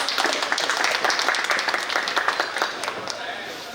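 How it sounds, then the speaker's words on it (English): Audience applause at a Delhi business group's leadership-series fireside chat, a dense, steady wash of clapping that fills the whole stretch and eases off slightly toward the end. "Can we have a big round of applause for Mr."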